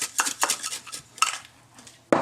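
A spoon scrapes and clinks around a bowl, mixing garlic powder seasoning into a batter for sweet and sour spare ribs. Several short, close, moderately loud stirring strokes come in an irregular rhythm, and a sharper clatter lands at the end.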